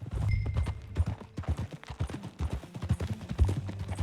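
Horse hooves in the video game Red Dead Redemption 2 clip-clop in a steady trotting rhythm, close and clear, with light tack rattle throughout.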